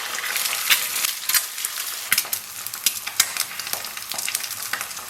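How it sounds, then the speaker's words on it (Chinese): Two eggs fry in a little oil in a pan, a steady bright crackle and sizzle with sharp spits and pops scattered throughout, close and continuous with no talking. "忘了先煎俩鸡蛋，给里边稍微来点油。"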